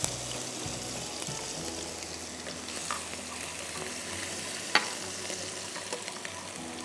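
About two tablespoons of crushed garlic fry in a hot pan, giving a steady, even sizzle with faint stirring scrapes and a small clink, all at low volume with no talking.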